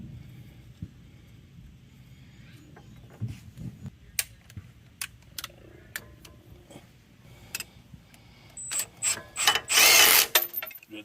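A ratchet wrench clicks in short bursts while turning a bolt outdoors, with scattered sharp ticks and metallic clinks, then a louder rapid run of ratcheting near the end.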